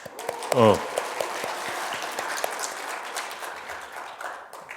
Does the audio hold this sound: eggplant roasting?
no